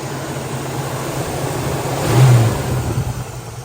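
1968 Chevrolet Camaro with a mild, stock 350 small-block V8 and Holley carburetor running steadily, swelling in a brief rev midway before easing back, heard fairly close.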